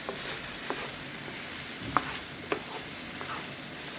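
Thinly chopped onion frying in a pan, a steady loud sizzle with a few sharp scrapes and taps as it is stirred, no voices.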